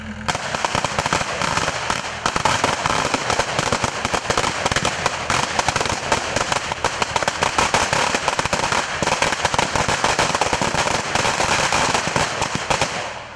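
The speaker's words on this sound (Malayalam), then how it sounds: "ചാലിടൽ ചടങ്ങിന് ശേഷം പടക്കം പൊട്ടിക്കൽ പതിവാണ്." Firecrackers set off after a traditional paddy-field ploughing ceremony in Palakkad burst in a rapid, unbroken string of loud, close cracks that last for over ten seconds, then cut off abruptly.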